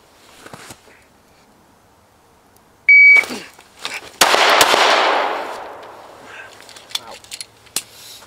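A subcompact handgun fires during a concealed carry drill: an electronic shot-timer beep, then a loud close gunshot with a long echoing tail, followed by a few sharp clicks and a later crack.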